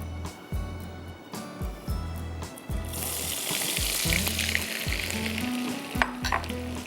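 Food frying crisp in hot oil: rhythmic clanks and scrapes of a utensil in the pan up front, then a loud, bright sizzle that swells and keeps crackling to the end.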